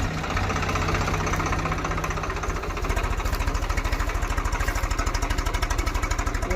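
A reversing tractor's diesel engine chugs close by on a farm with a steady knocking rhythm that grows slightly louder and more pronounced partway through, as if working harder.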